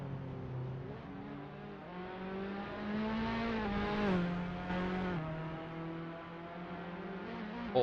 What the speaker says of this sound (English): you can just hear him running on the curb of that exit there